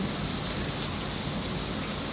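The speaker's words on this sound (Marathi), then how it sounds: "या पावसाचा आणि या दृश्याचा आनंद" Monsoon rain pours steadily on a small Konkan village near Chiplun, making a dense, unbroken hiss of falling water at moderate loudness.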